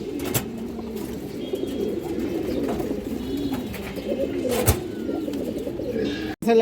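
Pigeons, including large-sized female pigeons, coo repeatedly in soft rolling phrases close by, with occasional sharp clicks and a brief bump near the end.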